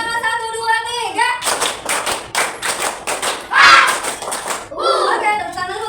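A class of students claps a steady rhythmic 'tepuk semangat' pattern of repeated sharp group claps, with chanting voices before and after.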